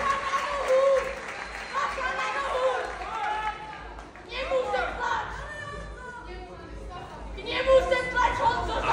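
Crowd at an MMA fight event clapping and cheering for the fighters, a dense wash of applause and chatter with shouting voices rising and falling across the whole stretch.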